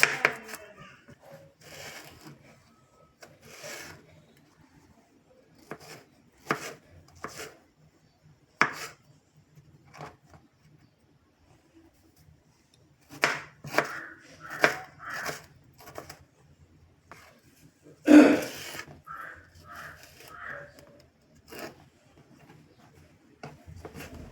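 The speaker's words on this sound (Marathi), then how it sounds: "कैरी आता कापून घ्यायची याचे मस्त बारीक बारीक तुकडे करायचे" A knife cuts raw green mango into small pieces on a board, producing quiet, irregular taps that come in scattered bursts with short pauses between them.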